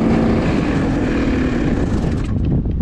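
Vintage dirt track Honda Odyssey race car engine running steadily at close range, a loud buzzy drone with a slightly boggy tone that holds steady before dipping at the end.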